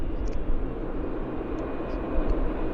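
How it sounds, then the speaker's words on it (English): Air Canada Boeing 787 jet taxiing at Vancouver Airport, a steady broadband engine roar that stays close and even throughout, with faint high tonal whines above it and no talking. "We've got Heathrow 787, which is taxiing out, Air Canada."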